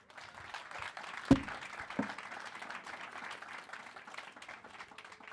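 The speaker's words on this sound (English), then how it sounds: "let's have one more round of applause for all of our amazing professors who came up here" A university reunion audience claps for professors after a talk event: a light, distant spread of applause with a couple of sharper individual claps standing out near the start.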